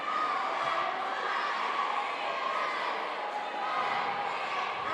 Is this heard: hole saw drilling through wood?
no